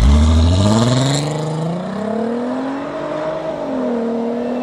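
A Volkswagen Golf 5 R32 engine revs loudly nearby, its stock exhaust note rising and then settling into a throaty, wavering hum.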